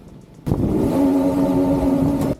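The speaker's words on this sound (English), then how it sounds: "here we do some synchronized revving" Two RS125 motorcycles rev together in a sudden sharp burst, a steady buzzing two-stroke whine held for about two seconds before cutting off abruptly.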